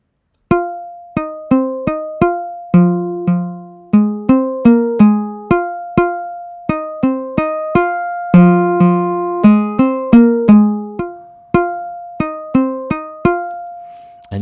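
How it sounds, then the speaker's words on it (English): Physical-modeling waveguide synthesizer producing plucked string tones: a sequence of sharp, bright notes, each ringing with harmonics and decaying quickly, played in a steady melodic pattern with a few chords, clean and close with no voices. "that's how you get a slightly more realistic waveguide"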